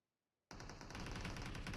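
Rapid gunfire bursts from PUBG Mobile gameplay erupt suddenly after a brief silence, then continue loud and dense as sustained automatic shooting.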